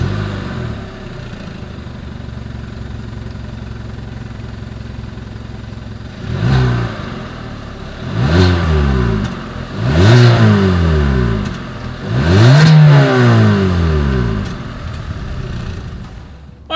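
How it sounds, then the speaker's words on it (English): Exhaust of a 2020 Hyundai Venue small SUV, starting at a steady idle and then given four quick revs that rise and fall one after another, loud and close with no talking. "As always, here is that exhaust clip."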